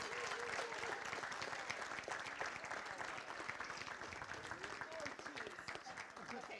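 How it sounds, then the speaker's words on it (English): Sustained applause from an audience at the 2018 Millbrae Man, Woman and Student of the Year Awards, steady and dense throughout, with some voices mixed into the clapping. "So a big round of applause, everyone."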